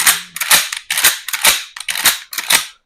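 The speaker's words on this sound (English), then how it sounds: "as far as actually, pumping this shotgun, it is" A Mossberg 500 pump-action shotgun is worked back and forth, giving about six sharp, close metallic clacks in a quick, even rhythm with no talking.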